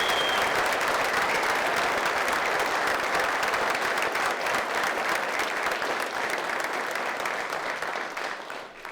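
An audience at a military recognition ceremony for senior students gives a sustained, dense round of applause that holds steady and fades slightly at the end.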